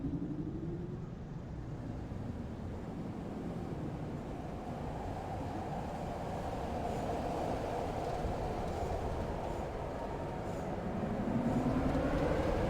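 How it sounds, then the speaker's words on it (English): A SkyTrain carriage in the video game Riven rumbles steadily along its track, a low rolling drone with faint rising mechanical whines at the start and end, no voices. "Take me to wherever the SkyTrain goes"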